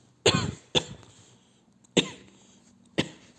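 Four harsh coughs come in separate bursts, close to the microphone, with short quiet gaps between them and no talking.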